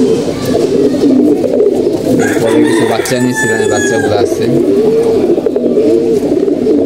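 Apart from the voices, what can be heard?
flying pigeons cooing at rest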